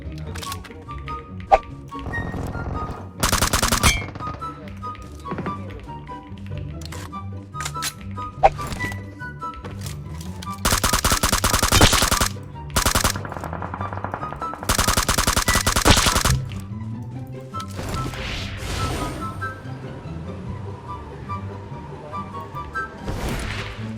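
Gunfire in the mobile battle royale game PUBG Mobile comes as sharp single shots and several loud sustained automatic bursts, with people talking between them.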